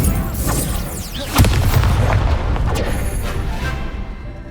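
A Confringo blasting-curse explosion in Hogwarts Legacy: a loud booming blast with a sharp crack near the middle, surrounded by swooshing spell effects and rumbling game sound.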